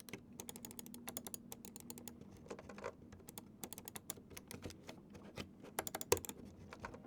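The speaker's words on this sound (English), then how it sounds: "The clicks are quite crispy out of the box." Rapid, crisp clicking from the buttons of an ASUS Gundam gaming mouse, dozens of quick sharp taps in an irregular, fairly steady stream, close but quiet with no voices.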